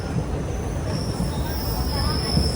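An Indian Railways train runs on the tracks about a kilometre from Jaynagar station, heard from on board. A steady, close rumble of wheels on the rails carries a faint high whine throughout.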